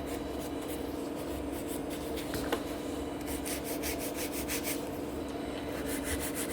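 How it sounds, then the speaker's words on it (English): Acrylic coffin-shape salon nails being filed into a V shape with a hand nail file, a steady close rasping rub that continues throughout with no talk. "So I'm filing into the V shape and I'm holding it also the file"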